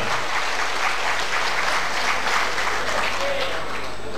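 Steady, dense applause from a large crowd at a political party national meeting, continuous and even throughout, with no pauses or voices standing out.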